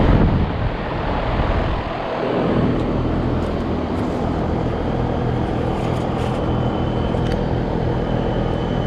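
A 3-ton, 3-phase heat pump outdoor unit with a Gentech motor running, a steady, loud broadband fan whoosh and hum that continues without a break.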